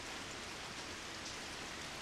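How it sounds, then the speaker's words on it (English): Rain falling in the Code Realize video game, a steady, even hiss of heavy drops with no breaks, soft and constant throughout. "fat drops of rain are starting to fall. The rain quickly picks up intensity"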